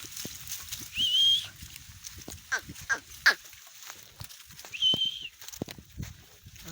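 Goats bleat in a village livestock setting, with two clear, moderately loud calls near the start and again near the end, plus scattered rustling and a few brief sharp sounds in between.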